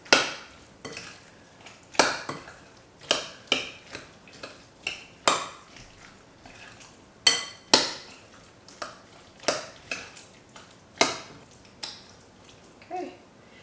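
Guacamole being mixed with salt in a bowl, a utensil scraping and clacking against the dish in a steady series of sharp, close knocks with soft mashing between them, no voices.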